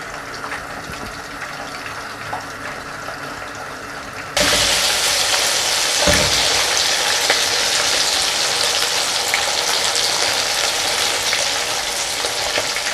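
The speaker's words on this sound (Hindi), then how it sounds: "और ढक्कन दे देते हैं ताकि छींटे ना उड़े। इसको हमने तकरीबन 8 मिनट एक साइड से पकाना है" Lahori chicken chargha fries in oil in a lidded pan, giving a dense, steady sizzle that swells sharply louder partway through and then holds constant, close and with no voices.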